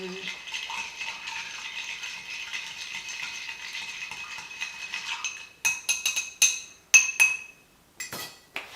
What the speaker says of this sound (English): We're gonna go ahead and add some ice.